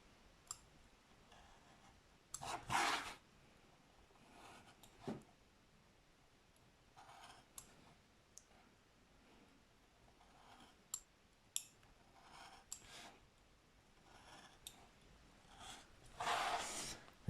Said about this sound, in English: Cut firmly because you want to go through the paper and 2 lots of masking tape.